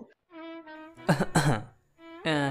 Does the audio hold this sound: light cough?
yes